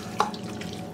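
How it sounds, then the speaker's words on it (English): Kitchen tap running while a sauce jar is rinsed under it, a steady rushing water stream with a brief splash or clink near the start, close and continuous. "let me rinse this jar out and we'll finish what's in that."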